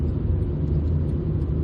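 Steady low engine and road rumble from a 1996 Toyota Paseo with a 1.5 engine driving along, heard from inside the car as a continuous drone.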